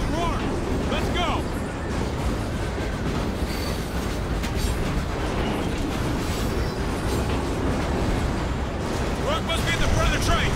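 Train rolling along in the Ghost Recon video game, a steady loud rumble with wheel clatter and faint squeals throughout, with voices talking over it.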